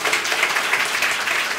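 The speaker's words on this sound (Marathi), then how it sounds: "त्यांच्यासाठी एकदा जोरदार टाळ्या वाजवा" An audience at a women's award ceremony claps for fourteen women school headmistresses, a brief, steady patter of many hands at moderate loudness.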